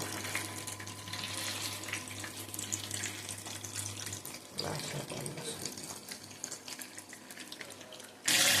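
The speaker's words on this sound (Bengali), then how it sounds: "এটা লো হিটে উলট পালট করে একটু ভাজতে হবে" Chicken pieces frying on low heat in a home kitchen pan give off a steady, soft hiss of oil with faint crackling throughout, fairly quiet and without talk.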